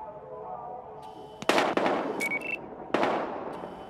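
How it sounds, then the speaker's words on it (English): Gunshots in the video game Battlefield Hardline, a few sharp cracking bursts, one early and another about a second and a half later, loud and close over a quiet background with a faint voice. "We've got gunshots."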